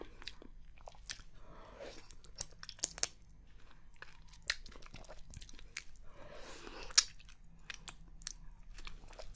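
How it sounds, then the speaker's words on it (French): Close, quiet bites and wet chewing of exotic fruit eaten like a watermelon, with scattered crunches, squishes and slurps over a soft background, no talk. "Je vais manger ça comme une pastèque."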